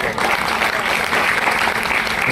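An audience in a hall gives loud, sustained applause after a teacher's poetic recitation at an event, dense clapping continuing without a break from start to finish.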